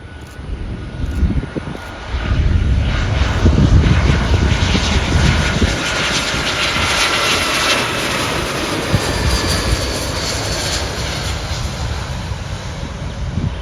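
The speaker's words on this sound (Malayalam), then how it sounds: "രണ്ടാമത് വരുന്നത് ശ്രീലങ്കൻ എയർലൈൻസിൻ്റെ കൊളംബോന്ന് കൊച്ചി വരുന്ന ഒരു A320 വിമാനമാണ്." A Sri Lankan Airlines Airbus A320 jet arriving at Cochin International Airport, its engine roar swelling after a couple of seconds into a loud, sustained broadband rumble and whine that holds steady throughout.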